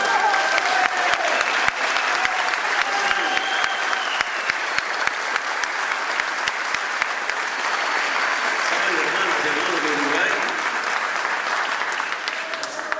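A young Bolivian audience gives Evo a sustained round of applause, a dense, steady wash of clapping from a large crowd in a hall that swells and holds for many seconds.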